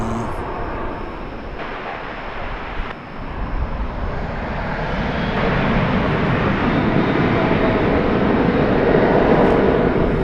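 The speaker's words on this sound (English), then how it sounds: "That would appear to be American Flight 2357 taking off." An American Airlines jet taking off at Dallas Fort Worth Airport: a broad, rumbling engine roar that swells and stays loud and sustained, heard from a distance outdoors.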